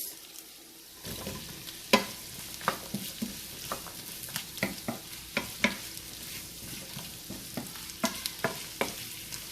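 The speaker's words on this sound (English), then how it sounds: "I am going to add the carrot and potato with this" Carrot and potato stirred into sautéed onion in a pan for mutton stew, a steady sizzle under a dozen or so sharp spatula scrapes and clinks that start after a quiet second and repeat at an irregular pace.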